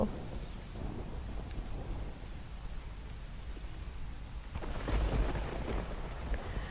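Unseasonal rain falls steadily in Amreli district with low rumbling thunder beneath it, the rumble swelling louder toward the end.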